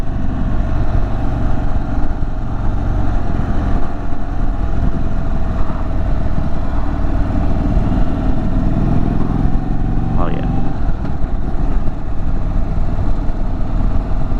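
An Indian Super Chief Limited motorcycle rumbles steadily through turns, its engine drone mixed with heavy wind buffeting at riding speed.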